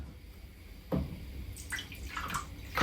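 Water poured into flour for homemade bread, a quarter cup going in with soft splashing and trickling bursts that come and go over a few seconds, fairly close and moderately quiet.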